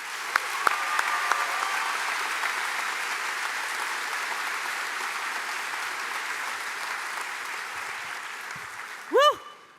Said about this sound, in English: Please join me in a round of applause for fellow Bruin